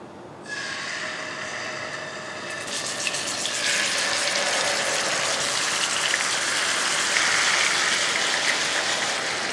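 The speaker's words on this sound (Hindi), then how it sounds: "चिकन को यहाँ पे हम फ्राई कर रहे हैं" Chicken pieces fry in about half a cup of hot oil in a pan, a loud, dense sizzle that starts abruptly and grows fuller and steadier as more pieces go in, with no talking.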